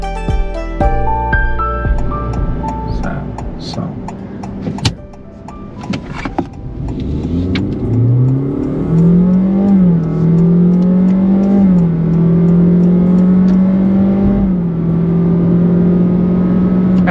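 A Honda City Hatchback minor-change model, 1.0 Turbo or e:HEV, accelerates on a test drive. The engine note rises steadily and holds a loud, continuous drone close to the listener, with no talking.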